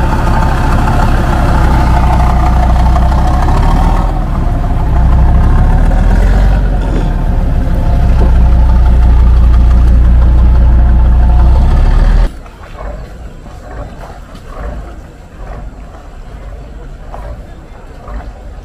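A Mahakam river taxi boat's engine rumbles loud and close as it docks at the Tenggarong pier, a heavy low drone that surges midway, then drops away to quieter dockside noise with faint voices.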